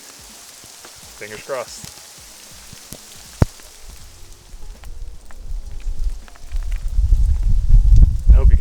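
Rain falls at Bear Lake in Rocky Mountain National Park, a soft patter at first that swells into a louder, dense rush toward the end, with brief speech early on.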